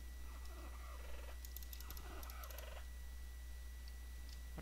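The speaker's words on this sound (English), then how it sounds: "What do I get for killing this pretty bird?" Minecraft bird mob calls in game, a few short chirping and warbling bursts at moderate distance over a steady low background hum, with no talk.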